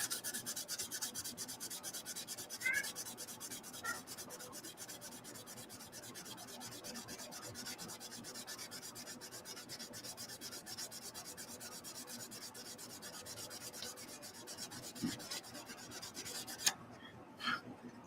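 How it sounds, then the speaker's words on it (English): Light hand sanding on the printed hood of an Ultra 18 scale model makes a steady, soft rasping rub that runs almost the whole time, close by and fairly quiet, ending with a few small knocks. "I think we'll just do a light sand on the hood."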